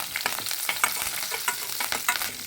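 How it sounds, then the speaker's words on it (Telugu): Curry leaves, mustard seeds, cumin, chillies, chana dal and urad dal crackle in hot oil for a lemon rice tempering, a close, spattery sizzle with sharp pops and stirring scrapes, no speech. "అందులోనే కరివేపాకు వేసి బాగా వేయించాలి"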